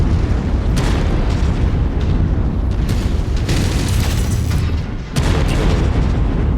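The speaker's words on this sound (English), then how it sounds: "Artillery." Artillery explosions in the MechWarrior video game, Rasalhague DLC: a heavy, continuous rumble of booms and blasts, loud and dense, with a brief dip before the barrage surges again.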